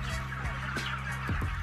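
A dense, continuous chorus of thousands of chickens fills an intensive poultry house holding some 25,000 birds, with overlapping clucks and squawks close and loud over a steady low mechanical hum.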